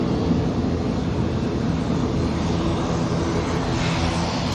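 A propeller airliner departs from Manchester, giving a dense, continuous engine drone that stays loud and steady throughout, with no voices.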